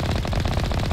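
Rapid, steady automatic weapon fire in Mass Effect Legendary, a dense rattling stream of shots close up and loud, running continuously for about a second.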